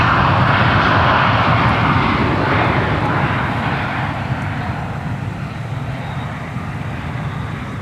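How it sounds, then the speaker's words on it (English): A KLM Airbus A330neo jet, arrived from Amsterdam, taxis to the gate at Minneapolis–St. Paul Airport, its engines a steady broadband roar that slowly eases and fades. "arriving from Amsterdam, pulling into the gate, is KLM 655 Heavy"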